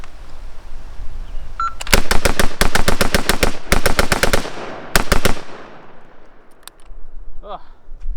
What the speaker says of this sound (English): We're gonna go ahead and do a mag dump on this guy and see if we can get some faster splits in there.